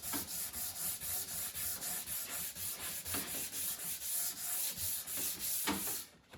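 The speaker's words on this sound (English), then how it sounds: "and you just do some sanding." Sandpaper wrapped around an ink pen rubs back and forth along curved wood trim for a fish tank stand, a close, rhythmic rasp of steady strokes that stops near the end.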